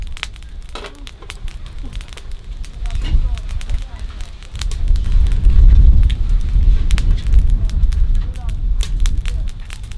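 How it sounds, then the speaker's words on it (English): A cooking fire at a Jamaican soup and pudding street food stall in St. Mary crackles with scattered sharp pops over a loud, steady low roar and windy rumble. "Watch the fire, you know, cause sometimes I spread the fire wide."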